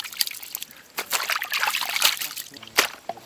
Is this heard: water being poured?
yes